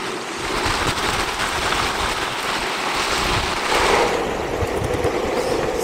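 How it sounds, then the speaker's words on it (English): Strong wind rushes and buffets past a rider on an electric skateboard, a loud, continuous broadband roar that rises and falls in gusts with no voices. "It's hard riding in the wind."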